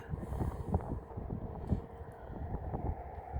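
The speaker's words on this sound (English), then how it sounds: "Let me get out of the wind." Wind buffets a camera microphone outdoors on a road trip, producing a rough, low, rumbling roar that swells and dips unevenly through the whole stretch. No voice is heard.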